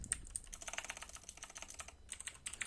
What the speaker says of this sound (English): we're going to type HTTP localhost